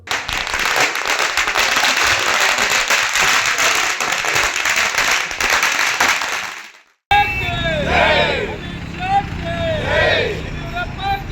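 Firecrackers burst in a dense, continuous crackling barrage at a BJP victory celebration in Kushalnagar, loud for about seven seconds before cutting to voices and cheering.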